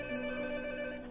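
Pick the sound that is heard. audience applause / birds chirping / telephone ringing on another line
telephone ringing on another line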